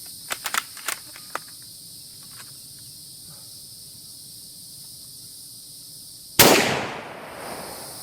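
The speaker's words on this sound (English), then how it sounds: "I'm going to try to ding this steel target some downrange" A single loud, sharp shot from an M1917 rifle fired at a 12-inch steel plate downrange cracks out after several seconds of quiet outdoor ambience with a few small clicks, then decays in a brief echoing tail.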